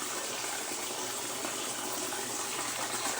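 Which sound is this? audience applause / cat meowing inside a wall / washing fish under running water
washing fish under running water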